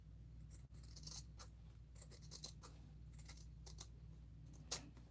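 Scissors snip through fabric while making a magnetized fabric envelope, a quiet series of irregular crisp cuts and rustles over a low steady hum, with no talking.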